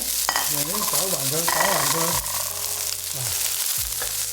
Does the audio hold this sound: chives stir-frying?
yes